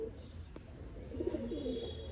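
Breeder pigeons give a low coo in the second half, faint against a quiet loft background.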